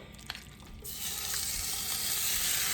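Shrimp hitting two tablespoons of hot olive oil sets off a sudden, loud, steady sizzle that swells after a quiet moment and holds as a bright continuous hiss, with no talking.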